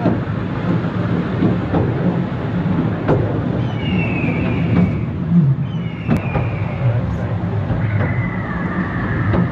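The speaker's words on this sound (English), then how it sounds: "Backwards up the world's steepest railway." A train rumbles and clatters steadily backwards up the world's steepest railway in the Blue Mountains, with metallic wheel squeals and occasional knocks over a constant low roar.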